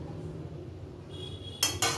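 A metal pan is set down on a stove for tempering rasam, two sharp clanks near the end after quiet kitchen background hum.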